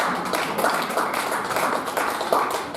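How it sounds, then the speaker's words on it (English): A church congregation at a healing service claps its hands, with a steady patter of many hands at moderate level that carries on throughout without a break. "I thought you would clap your hands."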